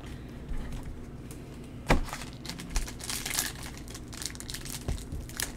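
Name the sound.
trading card pack wrapper being torn open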